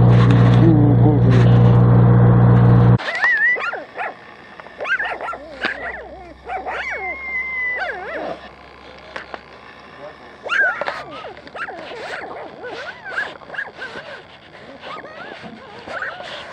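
Several puppies crying and barking, with high whimpers, yips and short barks coming in irregular bursts after a brief loud opening noise, fairly close, with occasional voices.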